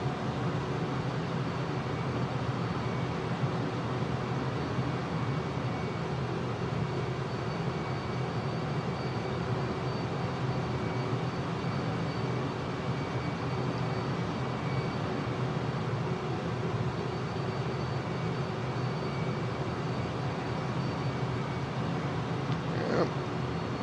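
A Su-57 jet coming in to land in Microsoft Flight Simulator 2020 gives a steady, broad engine roar with a constant hiss that holds evenly and never changes pitch, with no talking.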